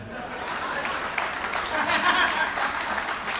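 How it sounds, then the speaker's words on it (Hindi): Audience applause at a Hindi comedy poetry show, a steady wash of clapping that runs through the whole moment at even loudness, with some faint murmuring mixed in. "ताली तो विशेष आपको इसलिए बजानी पड़ेगी"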